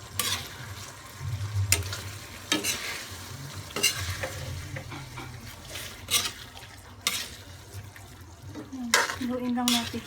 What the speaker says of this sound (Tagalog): Haluin lang natin siya, guys.